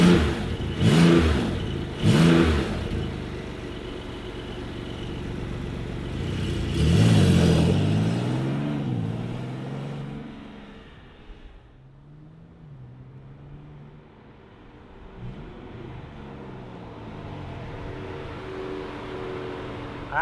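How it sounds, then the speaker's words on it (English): A 2025 Porsche 911 Carrera GTS 4 Cabriolet T-Hybrid with its flat-six and electric motor assist fires up with sharp revving blips, then settles into a steady lower idle, close and loud. "let's fire this up and hear what it sounds like"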